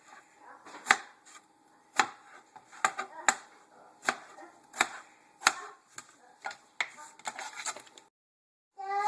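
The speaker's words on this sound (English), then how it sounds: "Kind of chop them into like some little squares." A knife chops potatoes into small squares on a cutting board, a steady run of about fifteen sharp, close knocks at an uneven pace, then a short silence near the end.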